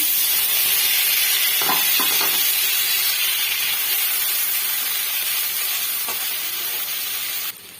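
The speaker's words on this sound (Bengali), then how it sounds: "এবারে টমেটো কুচি আর পেঁয়াজ কুচি এর মধ্যে দিয়ে দেবো" Chopped tomato and onion frying in hot oil left from frying pomfret, for a mustard curry; a steady, loud sizzle and hiss runs throughout with faint stirring clicks, then drops sharply near the end.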